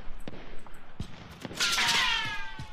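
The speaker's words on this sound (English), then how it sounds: "There's a lot of gunfire coming out of there." Gunfire in the video game Call of Duty: Warzone crackles in bursts, with a few sharp shots followed by a louder rattling volley near the end.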